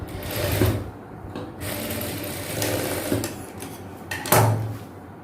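Sewing machine stitching a small folded hem on the waistband edge of girls' cotton night shorts, a steady close mechanical whir with brief pauses and a few handling clicks, no voices.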